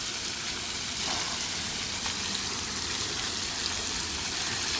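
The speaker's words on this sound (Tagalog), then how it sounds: "Ayan, bumalik ang tubig" Water gushing back on at a children's water park after a button is pressed, a steady broadband rush of flowing and splashing water that holds at an even level throughout, fairly close with no voices.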